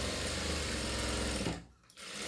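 A sewing machine stitches along the last edge of a hook strip with a close, steady, rapid whir, stopping briefly near the end before starting up again.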